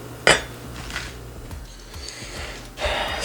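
A large metal cooking pot for apple preserves is handled in a kitchen, with one sharp clank at the start followed by softer knocks and scrapes of metal, close by.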